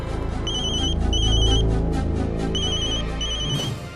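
A forgotten mobile phone rings indoors with a repeated two-tone electronic ringtone in short rhythmic bursts, clear over a low hum of background music.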